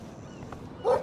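A single short bark from a dog in the Life Is Strange video game, heard near the end over quiet background ambience.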